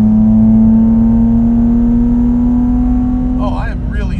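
A modified BMW Z3 M Coupe with the S54 engine holds a loud, steady drone from inside the cabin, and a voice breaks in near the end.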